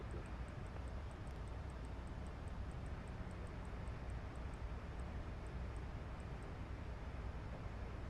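Jet engines of a Boeing 737 MAX8 in Microsoft Flight Simulator 2024 drone steadily on the takeoff roll, a constant, fairly faint roar with a regular high ticking repeating over it and no talking.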